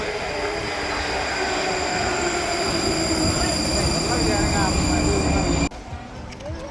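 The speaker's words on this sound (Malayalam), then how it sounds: "സബ്വേ ട്രെയിൻസ് ആണ്. അപ്പോൾ അതിൽ കയറിയിട്ട് അടുത്ത സ്റ്റോപ്പിലേക്ക് പോകണം." A Prague subway train rolls along with a steady loud rumble and rail noise, interior cabin hum continuing until it cuts abruptly near the end.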